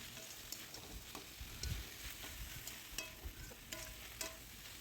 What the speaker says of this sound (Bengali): যতক্ষণ না জল শুকিয়ে আসবে ততক্ষণ এভাবেই নাড়তে থাকবো